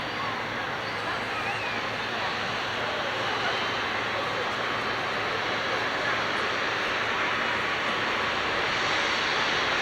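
An airliner jet roars continuously at an airport, a loud, steady broadband engine rumble and hiss filling the whole stretch at close range, with no break.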